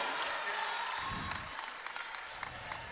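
Crowd at a university basketball game in Alumni Hall, Western Mustangs against Brock Badgers, gives faint, distant cheering and scattered clapping, with light court sounds and talk underneath.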